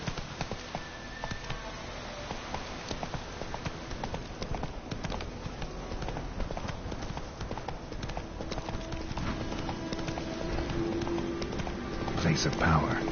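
Horse hooves pound in a rapid gallop through The Witcher 3 video game, a steady clip-clop rhythm under light ambient sound, growing slightly louder toward the end.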